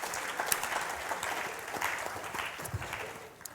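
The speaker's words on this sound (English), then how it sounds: "we can give them a round of applause to welcome them this afternoon" Audience at the London Festival of Education applauds to welcome the teachers' panel, a moderate, steady patter of clapping with a few sharper claps standing out, tapering off toward the end.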